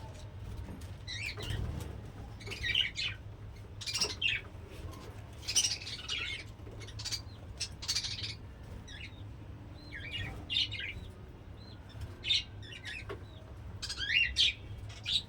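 Pet budgerigars and a cockatiel kept in a home aviary chirp and squawk in scattered, overlapping bursts. Sharp, fairly close calls rise over a low, steady hum throughout.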